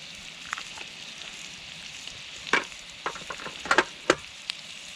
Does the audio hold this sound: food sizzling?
yes